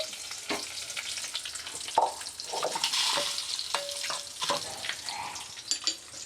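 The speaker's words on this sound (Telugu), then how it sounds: "ఇట్లా వేగిన తర్వాత దీంట్లోనే కొద్దిగా కిస్మిస్ వేసుకొని దింపేసుకోవడమండి" Raisins frying in a pan for jaggery payasam, a soft, steady sizzle with clinks and scraping from stirring, heard up close and fairly quiet throughout.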